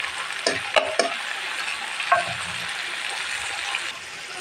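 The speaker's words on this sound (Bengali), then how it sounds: "এই মশলাটা রেখেছিলাম, হলুদ, লবণ আর ধনিয়ার গুঁড়া, এটাও ঢেলে দিলাম" Ridge gourd and lentils fry in a pan with turmeric, salt and ground coriander, giving a steady close sizzle broken by a few sharp stirring scrapes and clicks.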